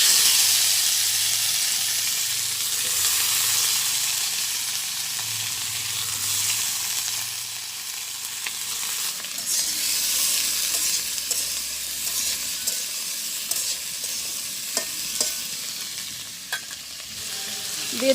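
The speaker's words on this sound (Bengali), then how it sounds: "বেগুন ভাজি করবো, কড়াইতে তেল দিয়ে দিতেছি।" Eggplant slices frying in hot oil in a wok in a village kitchen, a steady loud sizzle with occasional stirring clatter and utensil scrapes, no talk.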